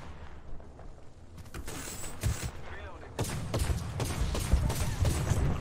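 Bangalore's Rolling Thunder artillery barrage in Apex Legends lands as a run of rumbling explosions and thuds that grow louder and denser toward the end, while players talk over it.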